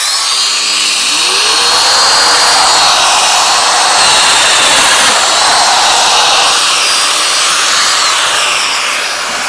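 A Festool Domino 500 joiner runs loud and steady for the whole stretch, its motor whine spinning up at the start and holding a dense, high buzzing drone with no talking over it.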